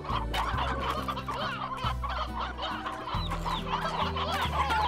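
Chickens in the video game Slime Rancher cluck steadily, with several birds overlapping in a busy, close chorus and no voices present.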